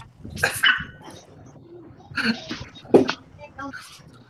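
A dog barks a few times nearby in short, sharp bursts, mixed with people talking and other scattered noises.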